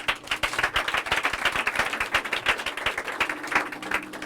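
A church congregation applauds and cheers during a French-language worship service, steady dense clapping from a large crowd sustained for several seconds, with faint voices in the background.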